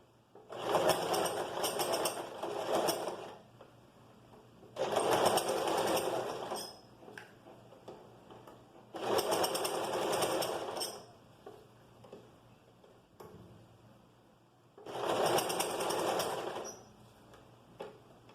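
A sewing machine stitches a seam on an A-line skirt in four separate bursts of rapid whirring, each lasting a couple of seconds with quiet pauses between, close and moderately quiet.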